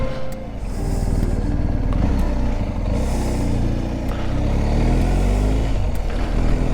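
A BMW R1250GS Adventure motorcycle being ridden, its engine a steady, loud, continuous drone heard close up, with wind rush over it and no talk.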